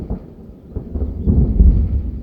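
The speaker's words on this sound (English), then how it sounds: "Oh, let me wait till the thunder's over." Thunder from a thunderstorm rolls in as a deep, swelling rumble that builds and peaks toward the end, loud and alone with no talking.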